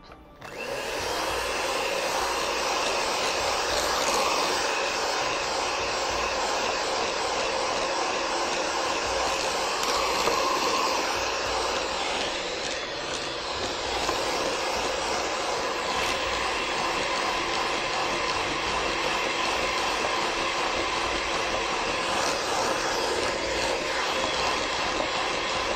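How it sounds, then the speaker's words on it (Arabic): An electric mixer whirs continuously, beating sugar for ghorayeba cookies in a home kitchen, a steady loud motorized drone with no pauses and no talking. "نبدأ بقى نضرب، وانزل بالسكر وانا بضرب"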